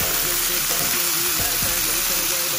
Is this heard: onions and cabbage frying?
yes